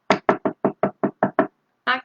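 A voice imitates knocking on a door with eight quick, evenly spaced knocks, followed by a short pause and one longer sound, all close and clear against silence.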